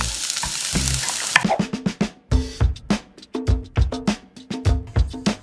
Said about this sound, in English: I'm just going to put the shallot in there.